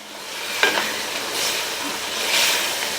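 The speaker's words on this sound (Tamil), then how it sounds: "சேர்த்துட்டு நல்லா ஒரு தடவை மிக்ஸ் பண்ணி விட்டுருங்க" Jaggery being stirred into cooked mango pachadi in a pot, with a sharp utensil knock near the start and soft scraping and gentle bubbling sizzle throughout, close and moderate in volume, no talking.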